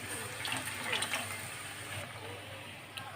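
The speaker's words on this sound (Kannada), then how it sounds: "ಇದಕ್ಕೆ ಸ್ವಲ್ಪ ಹುಣಸೆಹುಳಿ ರಸವನ್ನು ಹಾಕ್ತಿದ್ದೇನೆ." Tamarind juice is poured into a cooking pot of a bottle-gourd seed dish in a home kitchen, making a steady, fairly close liquid splash and trickle that runs for about three seconds against light background noise.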